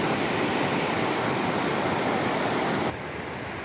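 The Ciliwung river flows through the Bogor Botanical Gardens with a steady, loud, close-up rush that continues unbroken and softens slightly just before the end.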